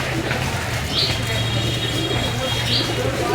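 Pigeons at a morning feeding, with two short calls standing out over a steady low hum and scuffling background.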